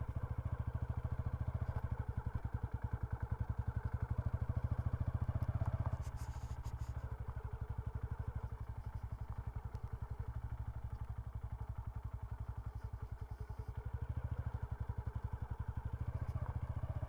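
A motorcycle rides steadily on a short trip near Panvel, its engine putting out a low, even, rapid pulsing throb that runs the whole time, with a few faint clatters and bumps from the road and no talking.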